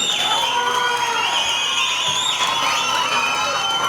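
Audience at a children's Dashavataram dance show cheering and shouting loudly, with high whistles and shrill voices over a dense, continuous crowd roar.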